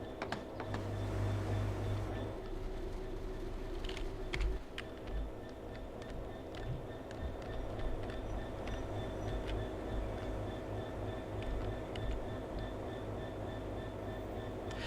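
Rail head treatment train running in Train Sim World 3, a steady engine drone and rolling rumble with occasional clicks and clunks, held at a constant level throughout with no talk.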